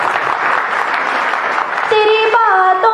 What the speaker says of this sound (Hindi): आप थोड़ी बहुत तालियां बजा सकते हैं, मुझे इतना बुरा नहीं मानूंगी।